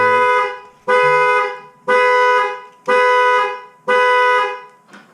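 A 2019 Chevrolet Corvette C7 Z06 car alarm blares in loud, regular honks, about one per second, repeating five times before cutting off.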